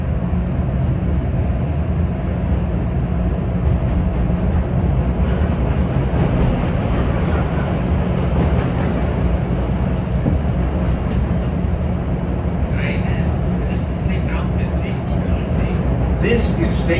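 A Chicago L Orange Line train to Midway rumbles loudly and steadily throughout, with bright metallic squeals and rattles rising near the end.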